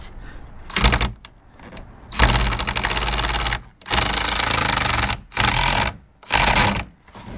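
A power drill drives screws into car splitter guards on a Challenger widebody front chin spoiler, loud whirring bursts of about a second each, repeated five times with short pauses between.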